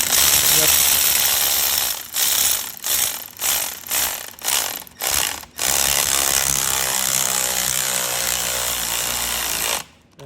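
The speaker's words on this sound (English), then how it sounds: "let me see if I can use now my power ratchet to make this faster" A power ratchet spins on a BMW F30 3 Series front strut mount, firing in a string of short loud bursts with brief pauses, then one long continuous run before cutting off.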